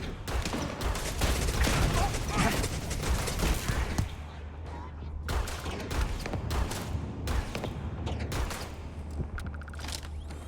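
Rapid pistol gunfire in the video game Starfield, dense and loud through the first four seconds, then scattered single shots and short bursts over a steady low hum, with a voice briefly heard.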